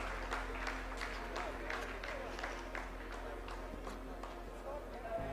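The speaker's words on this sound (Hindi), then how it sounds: "आप इस तालियों के गड़गड़ाहट को सुन सकते हैं" Scientists at mission control clap during the Chandrayaan-3 lunar landing, a steady crowd applause of moderate loudness that runs for several seconds over a constant low hum of the room.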